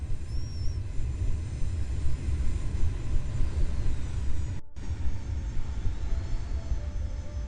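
Helicopter engine in a video game, a steady dense rotor-and-turbine drone held loud and even throughout, with one very brief dropout near the middle.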